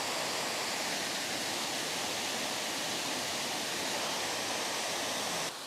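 Wadsworth Falls in a state park, surrounded by autumn foliage, makes a steady, loud, broadband rush of falling water that continues unbroken before cutting off at the end.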